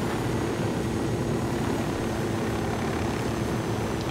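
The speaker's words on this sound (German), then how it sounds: "Ich finde, das ist ein schöner Parkplatz für einen Helikopter." A helicopter in the video game Ghost Recon Wildlands drones with a steady, loud rotor and engine roar that holds constant throughout, with no talk over it.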